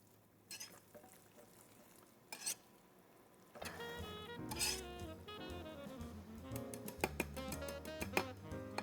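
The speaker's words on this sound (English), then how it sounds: "And I'm gonna stir that in." Chopped parsley being stirred into polenta in a pan, soft scraping and rubbing strokes that grow busier partway through, close and fairly quiet.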